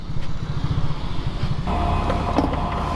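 A Suzuki Smash motorcycle engine runs steadily while riding, a close, continuous low drone that shifts in tone partway through with a few brief mechanical clicks and no talk.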